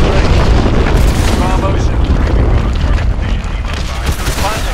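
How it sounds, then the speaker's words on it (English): Missile explosions in a fighter jet video game strike hard points at a hydroelectric dam, heard as loud, continuous booming rumbles layered with game effects and radio chatter from voices throughout. "Lock onto those hard points and hit them with your missiles."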